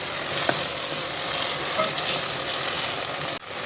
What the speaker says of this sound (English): Now we'll let it simmer for a few minutes.